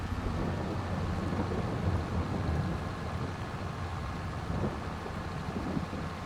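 Steady rain with low rumbling thunder in the video game Farming Simulator 22, a continuous dense wash of noise that holds at an even level throughout, with no voices over it.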